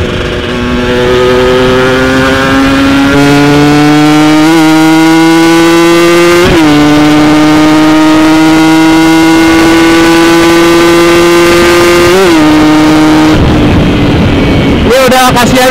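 A two-stroke Kawasaki Ninja engine with a PWK 33 carburetor revs hard and repeatedly, its pitch climbing and dropping in loud sustained bursts, with a sharp crackle near the end.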